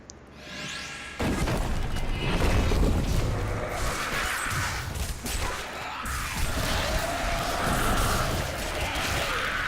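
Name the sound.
Monk exploding palm explosion in Diablo 3 video game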